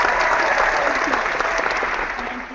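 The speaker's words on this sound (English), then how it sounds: "we all need to give her a big round of applause one more time" A loud, dense round of applause from many hands, steady throughout and easing slightly toward the end.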